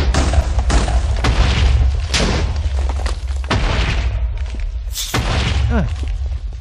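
Repeated booming video game explosions with crackling debris, dense and loud, following one another in quick succession.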